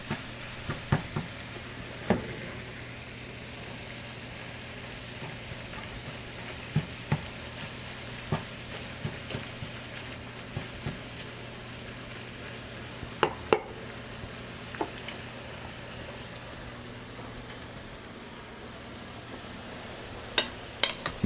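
Meat browning in a pan for a healthy breakfast gives a low steady sizzle, broken by scattered sharp clicks and spatters throughout and a few brief utensil knocks near the start and end.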